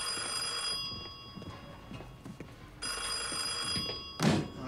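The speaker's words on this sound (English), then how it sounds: "Want to get off your ass and answer the phone?" A telephone bell rings in short repeated bursts over a busy room tone, with a louder thump near the end; no one speaks over it.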